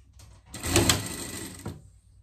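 A sewing machine runs a short burst of stitching, sewing small pleats on a fabric pet dress; the motor whirs loud and steady for about a second before stopping, with no talk.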